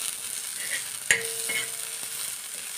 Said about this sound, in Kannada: ಅದಕ್ಕೆ ನಾನು ಹಸಿಮೆಣ್ಸಿನ್ಕಾಯಿ ಹಾಕಿ ಒಂದು ಸ್ವಲ್ಪ ಹೊತ್ತು ಫ್ರೈ ಮಾಡ್ಕೊತೀನಿ